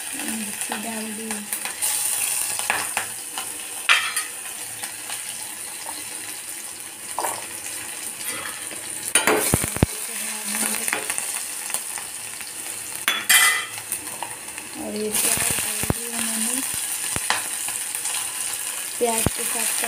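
Green chillies with cumin and garlic fry in hot oil in a pan, a faint steady sizzle broken by scraping stirs and clinks of the spoon, with no voices over it.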